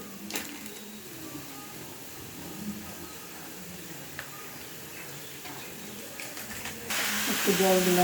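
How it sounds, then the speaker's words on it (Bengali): Water hits hot sizzling spice masala in a pan for aloo dum, bursting into a loud steamy hiss near the end after a quieter stretch of low frying crackle and clicks. "বন্ধুরা, একটু জল দিলাম মশলাটা যাতে না লেগে যায়"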